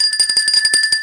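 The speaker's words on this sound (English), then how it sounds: "I'm going to ring the bell" A bell rung in a studio during a comedy show, a rapid series of about ten bright metallic dings in quick succession, loud and close with no talk over it.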